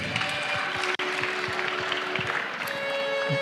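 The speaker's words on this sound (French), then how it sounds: "Donc vous pouvez l'applaudir, c'est Michael" Audience clapping for a player at a Wakfu game convention conference, scattered moderate applause with a brief dropout, steady for a few seconds.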